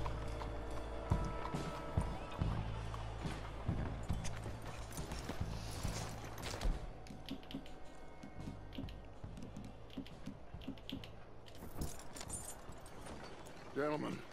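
Horse hooves in a video game, a rhythmic clip-clop of hooves on the ground slowing to a stop, heard under game music and character voices.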